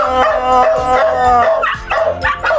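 A dog yaps and barks in quick, excited bursts, some bordering on whines, close by and fairly loud with no talking.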